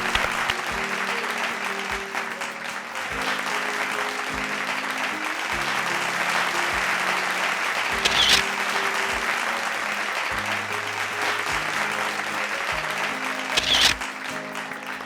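Sustained audience applause for two winners of a dholki competition on a Marathi stage show, steady and full across the whole stretch, with a drumbeat pattern playing underneath and brief louder bursts.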